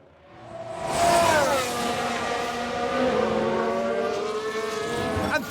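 A Mercedes Formula 1 car locking its wheels in F1 Manager 2022, a rising engine whine swelling into a sustained screeching tire skid that holds for several seconds before fading, then a sharp noise at the end.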